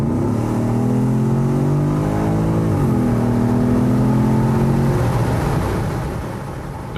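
A Porsche Cayenne GTS in sport mode revs and accelerates, its engine note rising through a gear, easing briefly, then climbing again before fading as the car pulls away.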